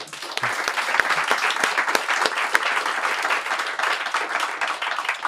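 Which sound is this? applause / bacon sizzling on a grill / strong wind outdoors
applause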